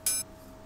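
A quirky hi-hat sample from a dubstep beat: one short, bright, crisp hit at the start, then a much fainter tick near the end, with near silence in between.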